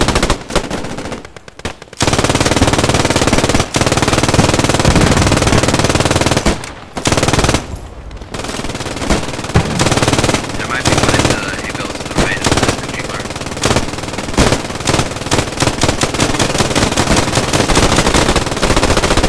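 Automatic fire pours from a machine gun on a barn roof at Heelsum in a video game: long, loud, nearly unbroken bursts with a few short pauses and trailing single shots near the end, and faint voices now and then underneath.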